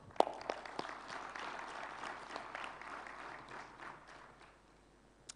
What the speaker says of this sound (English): let's give AIMS a big round of applause